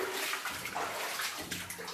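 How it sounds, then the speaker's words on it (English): Water flows and splashes steadily inside an old mine tunnel at the Coffin level mine in Burnt Forest, a continuous close hiss with no voices. "This one's got more water all of a sudden"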